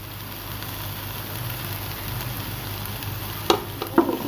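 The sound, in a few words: cabbage stir-frying for chicken vegetable fried rice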